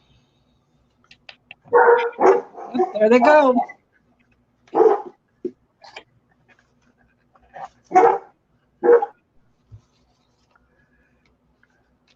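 A mixed-breed dog barks in short bursts, several sharp barks spread over a few seconds with quiet gaps, loud and near, with a brief spoken line between them.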